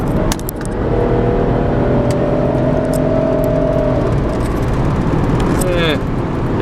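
A car in need of new tires cruises down the road at about 70, its engine droning loud and steady under a constant roar of road and wind noise, with rising whirs and brief tonal sweeps.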